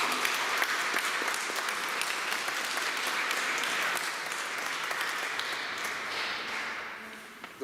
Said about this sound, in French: donc je crois qu'on peut les applaudir